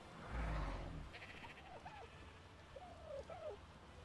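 A sheep bleats in a fantasy role-play video game, with a few short, faint, wavering bleats spread over a quiet background after a brief low thump at the start.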